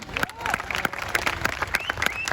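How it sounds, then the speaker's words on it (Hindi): Audience clapping with broadband bursts, a crowd applauding steadily throughout at a Vestige business event, mixed with background voices and noise. "ताली तो बजा दो भाई"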